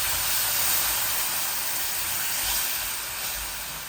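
Half-fried onions in a frying pan hiss loudly as water is added, a steady broadband sizzle that fades slightly over a few seconds.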